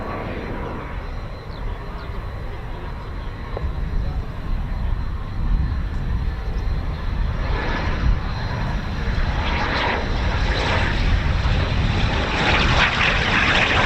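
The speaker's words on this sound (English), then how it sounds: "As the pilot is now being cleared to land." Aircraft landing at RAF Waddington, a steady loud engine roar that builds gradually over the whole stretch, continuous and fairly close with no talking.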